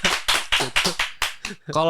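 Applause for Mas Adit on a talk show: a small group claps in an even rhythm, about seven crisp, close claps in a row, before a voice starts to speak.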